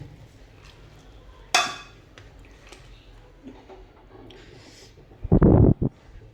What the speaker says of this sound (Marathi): आता पावभाजीच्या चमच्याने छानपैकी मॅश सर्व करून घेऊया